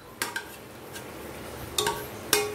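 A utensil stirring cooked moong and chana dal with bottle gourd in a metal pot, with a few sharp clinks and scrapes against the metal over a faint steady background.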